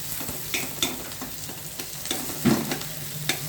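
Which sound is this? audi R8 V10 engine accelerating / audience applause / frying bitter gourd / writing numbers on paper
frying bitter gourd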